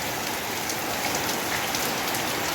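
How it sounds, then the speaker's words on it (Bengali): Steady rain falls in gusty midday weather, a dense, continuous patter on surfaces close by, with no voices over it. "আর এই যে বৃষ্টি শুরু হয়ে গেছে"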